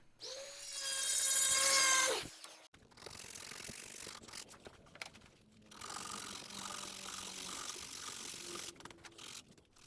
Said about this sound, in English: So I switched over to my rotary chisel in a die grinder.